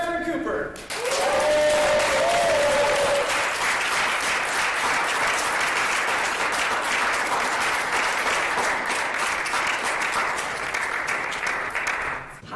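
A studio audience in Seattle, Washington breaks into loud, sustained applause and clapping to welcome a host onstage, filling the space evenly for several seconds after a brief spoken introduction at the start.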